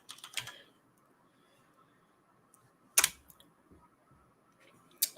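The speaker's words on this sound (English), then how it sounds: "I'm just going to type in teak wood." Brief bursts of typing on a computer keyboard, a few quick clicks near the start, another sharp cluster around the middle and one at the end, separated by quiet room tone.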